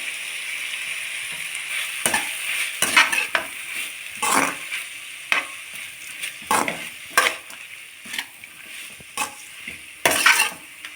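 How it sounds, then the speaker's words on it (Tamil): Grated coconut being sautéed briefly in a pan for kadamba chutney: a soft sizzle runs beneath repeated sharp scraping strokes of a spatula against the pan, arriving in an irregular rhythm close up, with no talking. "தேங்காய் போட்டு ரொம்ப நேரம் வதக்க வேண்டாம் அப்படியே ஒரு ரெண்டு வாட்டி பரட்டி விட்டுட்டு நம்ம எடுத்துடலாம்"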